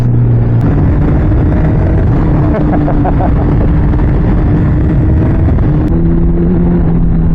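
A motorcycle fitted with a quick shifter and quick-action throttle revs hard and pulls away, its loud, continuous engine note rising and shifting through gears close by, with brief talk over it.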